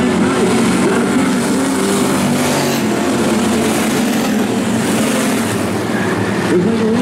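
Stock V8 race cars roar around the oval at Sumter Speedway in a steady, loud wash of engine noise, with no clear individual passes standing out.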